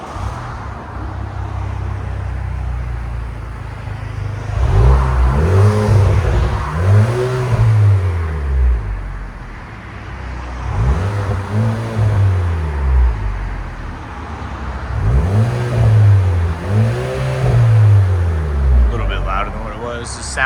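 A 2020 Chevy Malibu fitted with Netami turbo resonators and Vibrant bottle resonators revs in several rising-and-falling bursts, loud and close, with steady idle between pulls.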